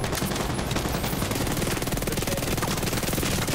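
Rapid, sustained machine gun fire from the video game The Division 2, a dense continuous rattle of shots with no pauses and no talking.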